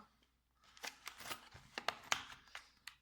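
Coins from a Polish Post coin box are tipped out, clinking and rattling in a quick run of sharp metallic clatters that start after a short pause and carry on unevenly, close up.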